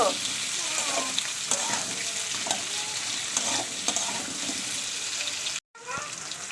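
Potatoes fry in a pan with a constant sizzle, broken by repeated scraping stir strokes close by, a brief cut to silence near the end, and a voice speaking faintly at times.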